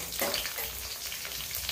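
Curry leaves and a bay leaf hit a couple of spoons of hot cooking oil, giving a steady, close crackling sizzle that fills the whole moment with no talking.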